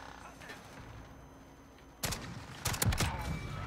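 Dragunov sniper rifle fire in Call of Duty: a quiet stretch, then one sharp, loud shot followed by a tight cluster of booming reports with some ringing tail.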